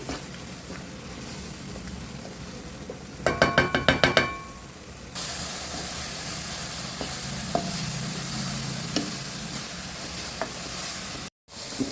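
Chopped onions fry in a pan for fenugreek wheat kadabu, a continuous sizzle broken early by a short burst of metallic clinks as a spoon strikes the pan, then steady frying with a brief silent gap near the end.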